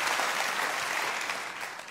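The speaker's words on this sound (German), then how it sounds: "Ja, großen Applaus, die Melanie." An audience claps steadily in a dense, even burst of applause that fades slightly toward the end.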